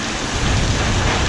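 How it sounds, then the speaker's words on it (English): Heavy hail and rain pound down in a dense, loud, continuous roar during a severe storm, with no talk. "Now we're getting a lot of hail."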